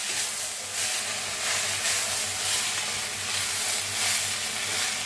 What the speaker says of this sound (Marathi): आता मिक्स करून मटकीला भाजून घेऊया।